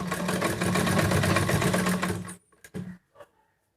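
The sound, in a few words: sewing machine stitching a cloth face mask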